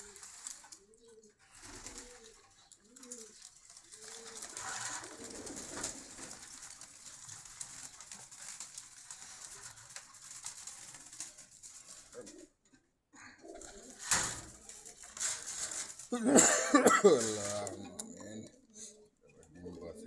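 Pigeons cooing at Meradia Bazar in Khilgaon, Dhaka, with soft repeated coos up close early on, someone talking over them and busier rustling and calls later.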